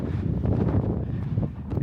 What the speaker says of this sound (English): I'm sure you can hear the wind now.